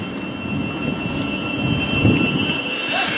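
A train comes in at Harlington station with a continuous rolling rumble and faint high-pitched wheel squeal, moderately loud and steady.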